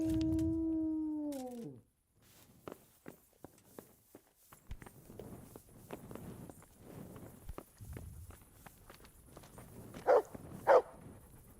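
A dog in the medieval game Kingdom Come: Deliverance gives a drawn-out whining howl, followed by a stretch of soft footsteps and scuffling. Two sharper, louder barks ring out near the end.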